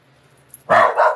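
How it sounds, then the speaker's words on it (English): A dog barks at an animal on television, giving two quick, loud, close barks after a moment of near silence indoors. "Oh, he's seeing an animal on TV and he's barking."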